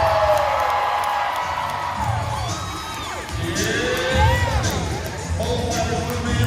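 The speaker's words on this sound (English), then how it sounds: "And the crowd goes wild." A loud crowd cheering wildly, with whoops, shouts and rising yells over a dense roar that swells, dips briefly and surges again.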